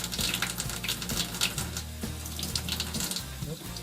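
A tap runs steadily, with water splashing as it wets a slick painted surface on paper. Low hum and clatter sit underneath, and there is no clear talk.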